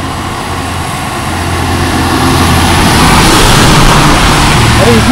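A heavy engine rumble swells as an MSRTC state transport bus approaches along a rain-soaked Konkan road, growing louder over a constant wash of rain.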